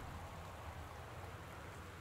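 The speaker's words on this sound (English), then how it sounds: "when I get closer to it, I can hear the rain outside" Steady, faint rain falls outside a house in the video game Gone Home, a soft even hiss with no change over two seconds.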